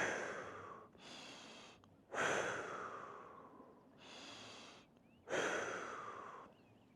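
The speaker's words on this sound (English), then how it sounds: "take a few breaths" Slow, deep human breathing, alternating long inhales and exhales in an even rhythm, close and soft with no talking.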